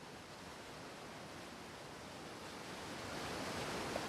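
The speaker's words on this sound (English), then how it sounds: "Oh, I can hear the running water. Must be near the river." River water runs in the Fate/Grand Order game, a steady broadband rush that grows slightly louder toward the end, with no talking.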